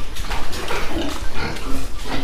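Pigs on a farm grunt in a steady run of close, loud, low snorting grunts, with no talk.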